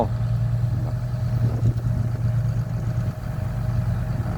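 A Komatsu PC200-7 excavator with a 195-horsepower engine runs nearby while filling land at a pig farm, a loud, even low rumble throughout without speech.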